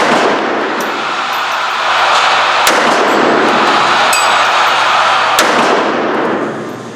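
A SCCY CPX-3 pistol chambered in .380 ACP fires at an outdoor range, with three sharp, loud shots spaced a few seconds apart over a steady wash of background noise.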